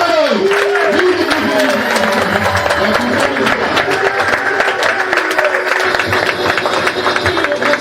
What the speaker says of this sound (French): Et on applaudit tout le monde.